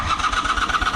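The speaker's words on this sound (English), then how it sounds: "now we're just going to see if it actually cranks" A Honda CM400 motorcycle engine cranks on a newly replaced starter motor, a loud, close, rapid rhythmic churning pulse that repeats steadily through the whole second, with no talk.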